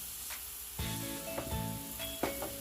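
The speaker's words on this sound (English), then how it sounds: "I'm gonna stir all this together" Honey glaze sauce with lemon juice sizzles steadily in a hot pan, with a few clinks and scrapes as it is stirred, close and clear with no talking.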